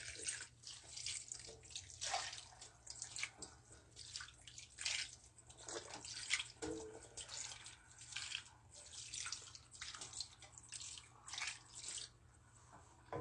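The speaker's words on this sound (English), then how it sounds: "so we get some water, and you just kind of pour water on it" Water poured over chicken in a kitchen, soft uneven splashing and dripping in repeated bursts, fairly quiet and close, with no talking.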